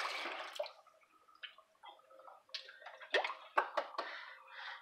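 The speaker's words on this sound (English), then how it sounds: "I give it a quick rinse like that." Water splashes and swirls inside a stainless steel tumbler during a quick rinse, with soft running flow followed by several sharp sloshing bursts and drips, close and fairly quiet.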